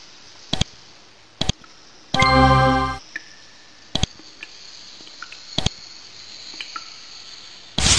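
Insect-like bugs chittering in the video game Avernum 3, heard as a few sharp clicks and one dense buzzing burst over a faint ambient hum, with no talking.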